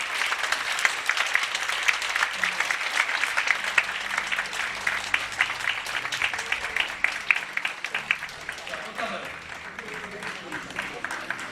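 Sustained applause from a church congregation at a Korean presbytery's opening worship service, dense and steady clapping throughout with some background voices and movement under it.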